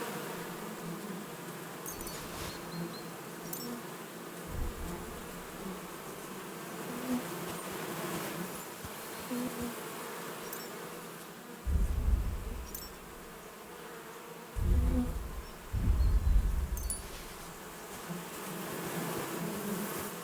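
A swarm of bees in Kingdom Come Deliverance II, a steady dense buzzing hum running throughout at moderate loudness, with several heavier low thumps and rustling bursts breaking in around the middle and end, no speech.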